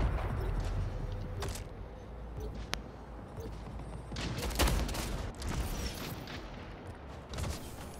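Repeated shotgun blasts in the King of Carnage shooter game, with loud, sharp reports spaced irregularly over a busy background of other gunfire and game noise.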